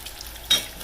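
Apple fritters frying in hot oil, a brief close sizzle with a steady crackling hiss that swells into a louder burst midway.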